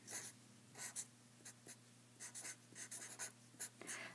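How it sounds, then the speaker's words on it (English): An ideal gas law equation being written on a board in short, scratchy bursts of strokes with brief pauses between them, close and fairly quiet over a low steady hum. "Let's write down first. PV equals nRT."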